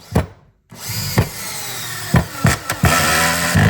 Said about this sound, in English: this screw is going to drive itself straight through this piece of wood